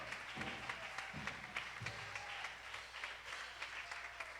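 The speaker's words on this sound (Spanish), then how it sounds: "levanta esos aplausos para Dios" A church congregation claps along in worship, a faint, steady patter of many hands with occasional sharper claps and low voices underneath.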